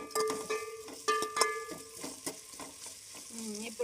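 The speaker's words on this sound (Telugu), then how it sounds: "ఒక స్పూన్ అల్లం వేసి ఇలా కలుపుతూ ఉండాలి" Ginger sizzles in hot oil in a pan while a spoon stirs it, giving scraping strokes and clinks over a crackling fry, close and fairly loud.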